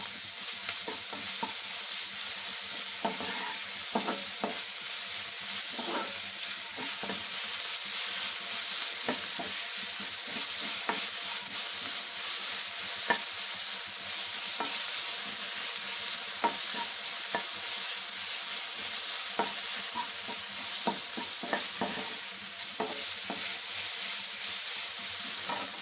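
Ginger garlic paste frying with onion in a pan for brinjal curry: a close, continuous sizzle with regular scraping and tapping of a spoon stirring throughout, steady and unbroken by any voice.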